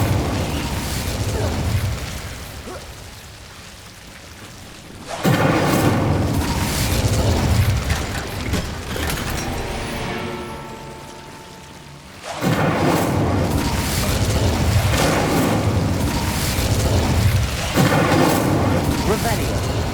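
Incendio fire spells are cast repeatedly in Hogwarts Legacy, loud booming bursts with a rumbling, explosive roar that come in long surges, broken by quieter stretches and a tonal swell near the middle.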